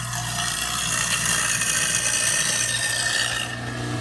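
A kitchen garbage disposal running after its power was restored, a loud continuous grinding whir with a low steady hum, heard close and alone for about three and a half seconds before cutting off.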